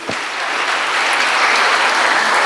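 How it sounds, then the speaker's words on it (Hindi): Audience applause at Brahma Kumaris centres for Raksha Bandhan, a steady wash of clapping from a crowd that starts abruptly and holds at an even, full level with no voices. "रक्षाबंधन के निमित्त सभी सेंटर्स पर जोर से ताली बजाइए"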